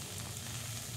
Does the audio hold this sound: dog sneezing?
no